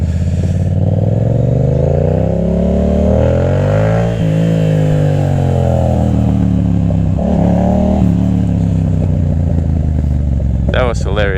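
A 2021 Yamaha MT-07 motorcycle engine revs loudly and close, its pitch rising and falling through several throttle blips over a continuous rumble.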